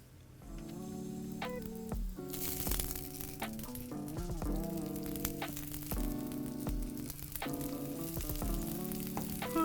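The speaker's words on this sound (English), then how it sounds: "listen to that sizzle" Loud, continuous sizzling and crackling of rice balls frying in hot oil in a pan close by, with tonal music playing underneath.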